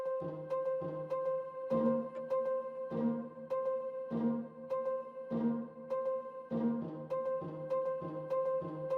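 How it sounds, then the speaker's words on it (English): Plucked pizzicato string notes in an Afrobeats beat remake of a song, short bright plucks in a bouncy repeating pattern over soft low accents, moderately quiet and with no talk. "now we have this pizzicato string sound that was also there to like counter what we have in"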